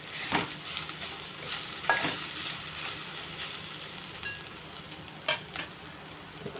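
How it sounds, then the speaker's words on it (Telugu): Curd and curry frying in a pan for chutney while being stirred, a steady soft sizzle with a few sharp utensil scrapes and clinks against the pan. "ఆ పెరుగు ఇందులో వేసేసుకుందాం పచ్చివాసన పోయేలాగా వేపుకుంటే చాలా బాగుంటుందండి"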